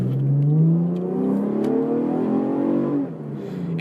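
Modified 2013 Chevrolet Camaro V6 with aftermarket exhaust revving up, a loud close engine note climbing steadily in pitch over a few seconds before dropping off as the throttle lifts.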